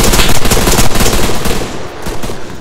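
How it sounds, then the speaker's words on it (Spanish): Dense gunfire in the Arma 3 multiplayer game, with rapid automatic bursts crackling close and loud throughout, a continuous barrage with no gaps. "te están disparando detrás"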